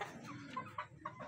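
A young gamefowl stag rooster gives a few soft, separate clucks, faint and close, with quiet gaps between calls.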